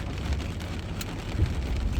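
Steady rain pours down on a job site just after a lightning storm, a dense even wash of falling water with a low rumbling undertone and slight swells, no voices.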